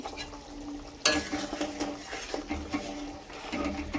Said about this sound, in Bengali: দেখো আমার কিন্তু সুন্দর ঝোলটা ফুটে এসেছে